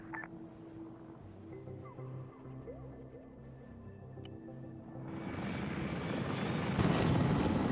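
An Mi-24 helicopter in the military game Arma 3, damaged with its anti-torque out, its rotor and engine drone swelling from a faint hum to a loud, rushing roar.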